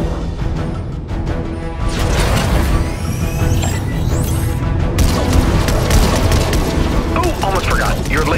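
Battle bus laser cannons firing at drones in Fortnite during the Galactus event, rapid zapping blasts with booms and crashing layered over a dense game soundtrack, loud throughout.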